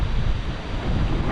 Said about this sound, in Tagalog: Ayan, napakalakas ng hangin.